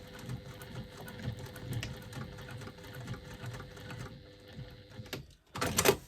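A sewing machine makes a few short stitches over a seam join on a wristlet bag. The stitching rattles steadily at close range, pauses briefly, then ends in a louder burst.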